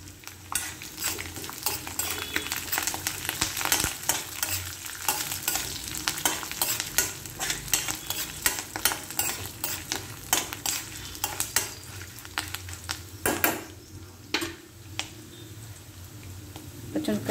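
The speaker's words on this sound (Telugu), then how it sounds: "తాలింపులో శనగపప్పు వేగుతున్నప్పుడు మిగతా తాలింపు గింజలు వేసుకోవాలి." Chana dal and tempering seeds sizzle and fry in a pan for a pulihora made from leftover rice, with continuous crackling and repeated metal spoon scrapes and stirring clatter close by.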